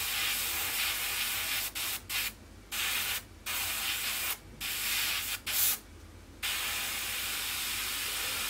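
An airbrush sprays paint onto an Airfix 1/48 North American P-51D Mustang model kit, with repeated close hissing bursts of a second or so broken by brief silent pauses.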